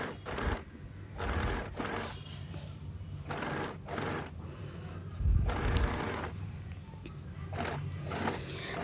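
A sewing machine stitches front pieces onto a princess-cut deep V-neck blouse with a belt, running in several close bursts of rapid mechanical whirring separated by short pauses.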